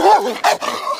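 A dog barks and yelps close by in a few quick, loud bursts, sounding agitated, with no talking over it.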